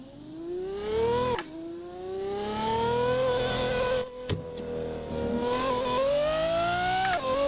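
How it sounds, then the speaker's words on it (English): Lamborghini Aventador engine in the Assetto Corsa racing game, revving loudly through rising gear pulls with sharp cuts and downshift blips between them, close and continuous with no talk. "It sounds just like an Aventador."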